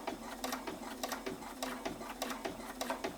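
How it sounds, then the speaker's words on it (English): A sewing machine slowly stitching through KraftTex to make a scissor sheath, with a steady rhythmic mechanical clatter of regular needle strokes, close and continuous, without talk. "to guide the cut edge of the shape as I sew through"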